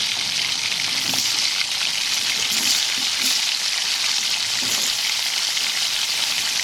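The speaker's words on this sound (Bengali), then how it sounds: "প্রথমে আমি আলুগুলো দিয়ে দেবো" Potatoes hiss and sizzle steadily in a hot pan as chunks are fried for a Bengali pumpkin, pointed gourd and Malabar spinach chorchori with prawns. The sizzle is loud and continuous, with occasional soft stirring knocks and no talking.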